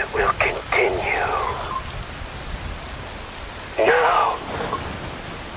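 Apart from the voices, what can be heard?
rain falling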